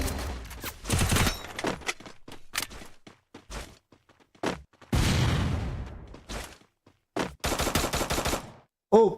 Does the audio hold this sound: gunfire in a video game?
yes